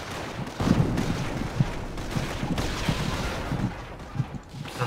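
Mortar fire in Company of Heroes: dull, repeated battlefield thumps at moderate volume within a dense, continuous wash of combat noise.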